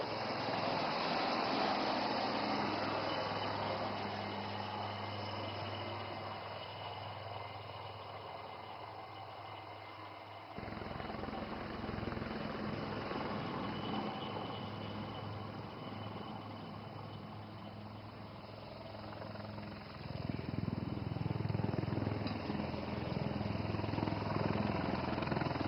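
Aircraft engine noise at India's biggest air show during a humanitarian rescue display, a steady broad drone that holds throughout and swells louder near the end, with no talk.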